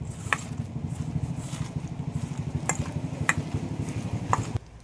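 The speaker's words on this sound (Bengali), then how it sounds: "এবার সবগুলো একসাথে একটু ভালো করে মেখে নেব।" Ingredients mixed with salt and turmeric powder are worked together by hand, giving a steady, rhythmic squishing and kneading at close range, broken by a few faint clinks.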